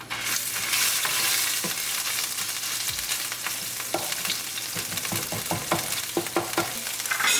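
Ginger and green chili paste frying in olive oil with ajwain seeds, a loud steady sizzle under scattered sharp clicks and scrapes of stirring, with no talk.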